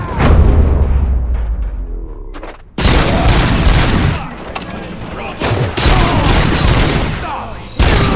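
Video game gunfire crackles in loud, dense volleys, with a heavy burst of shots near the start and renewed sustained firing after a brief drop. The shots sound close and overlap with battle noise and a boomy low end.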